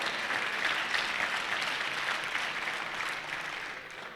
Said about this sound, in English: I want to clap for oaks, too.